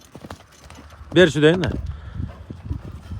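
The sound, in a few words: horse hooves clip-clopping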